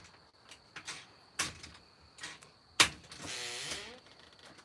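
A household door handled and pushed shut: close knocks and clicks, one sharp bang, then a brief rattling scrape as it settles.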